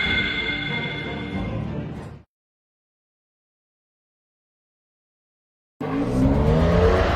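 A car drives and skids with loud, close engine noise and tire squeal, cut by a few seconds of total silence before the engine roars back in.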